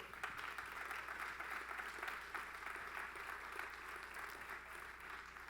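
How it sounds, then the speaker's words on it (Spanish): Sustained, even applause from a congregation at a church conference, dense and steady throughout, heard from some distance. "Dele un fuerte aplauso a Dios."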